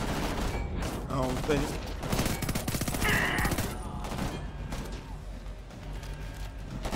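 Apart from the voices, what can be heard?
gunfire at wire mesh in Homefront The Revolution video game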